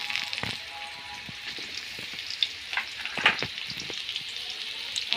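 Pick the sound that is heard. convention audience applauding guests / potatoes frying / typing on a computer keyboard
potatoes frying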